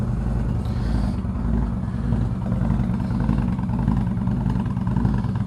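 An Indian Chieftain motorcycle engine idles while warming up, a steady, close, low rumbling throb that holds even without revving, alone with no talk.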